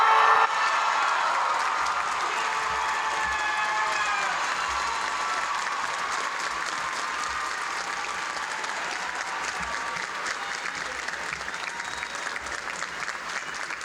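A university commencement audience breaks into sustained applause after a cadet's oath, a broad even roar of clapping from a large crowd that slowly tapers, heard from a distance in a big hall.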